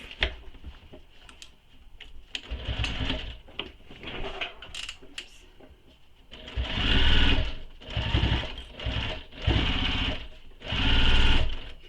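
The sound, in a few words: sewing machine stitching backpack fabric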